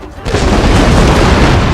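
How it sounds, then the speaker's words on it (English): A sustained roar of gunfire from mounted gunners in Shogun 2 battle, dense and booming, loud and continuous after a brief quiet start. "I'm over here sending up these mounted gunners, and they're firing"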